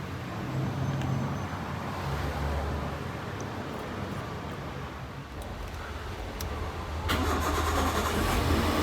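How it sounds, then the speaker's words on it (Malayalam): A car engine cranks and catches just after an engine oil top-up, then settles into a louder steady idle over light background road noise. "അപ്പോൾ നമ്മൾ വണ്ടി സ്റ്റാർട്ട് ചെയ്തു"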